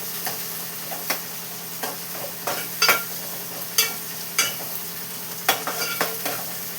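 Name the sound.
food frying in a pan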